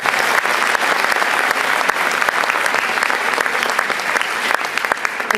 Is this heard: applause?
yes